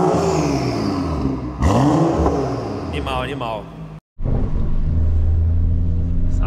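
A Toyota Supra engine revs and accelerates for a 201-metre drag run, a loud rising and falling rumble up close that carries through most of the clip, with people talking and shouting over it.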